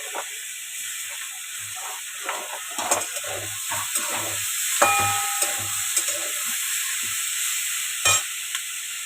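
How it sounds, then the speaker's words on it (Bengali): Tomato and eggplant fry in a pan with a close, crackling sizzle, punctuated by repeated scrapes and taps of a spatula stirring against the metal. "এবার দিয়ে দেবো টমেটো আর বেগুনটা"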